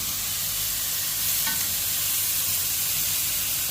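Dried fish frying in hot oil in a pan gives a steady, close, dense sizzle and crackle throughout, with no voices over it.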